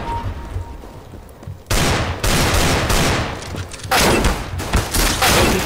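Gunfire in a shooting video game: quiet at first, then loud rapid bursts of automatic fire and repeated shots cut in, broken by a short lull before a second dense volley.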